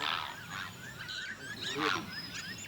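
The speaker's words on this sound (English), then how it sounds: "So this is the bird island. You can feel it, you can hear it." A crowd of birds calls and squawks together in overlapping honks and cries, a noisy colony roosting on a Kenyan lake island, heard from fairly close with no speech.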